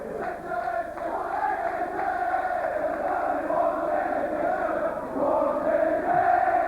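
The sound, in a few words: sparse crowd at rugby league match, Saints v Hull KR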